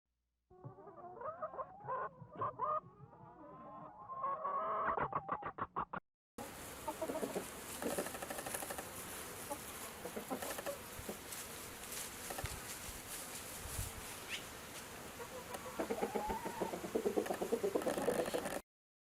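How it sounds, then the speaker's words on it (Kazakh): A chicken clucks in short bursts at first, then farmyard sound follows with buzzing insects and more clucking fowl, moderately loud with no talk. "Тауық, курица."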